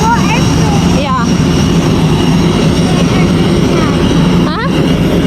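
A Cebu Pacific airliner's engines hum with a steady, loud roar as passengers climb aboard in Manila. Voices chatter over the drone, and brief swooshing whines come and go.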